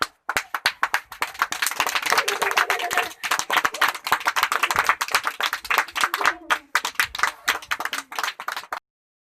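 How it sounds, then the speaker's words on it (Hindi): A small family group claps for children receiving Eid gifts, with close, sharp, irregular hand claps bursting in uneven clusters, some brief gaps between rounds, and a few voices faintly underneath. "तालियां"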